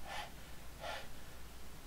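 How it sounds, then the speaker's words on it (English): A wrestling character in WWE 2K20 breathes heavily, two sharp, breathy gasps about a second apart, close and alone over a low steady background. "Panting."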